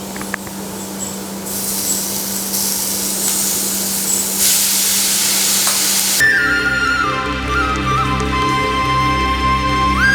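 Grated beetroot fries in a pan for Kerala-style beetroot pachadi, a steady bright sizzle and hiss with occasional stirring, loud and close, with no talk.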